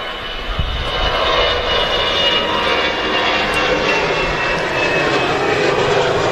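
A jet airliner running its engines on the runway at Manchester Airport, heard as a steady, loud, broadband roar with a faint high whine that holds for the whole stretch. No one speaks over it.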